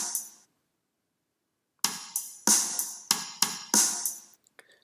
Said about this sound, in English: So you can see here that the snare drums are played on beat 2 and beat 4.